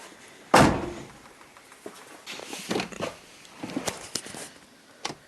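A single loud Honda Civic car door slam close by, followed by quieter rustling and a few light knocks and clicks.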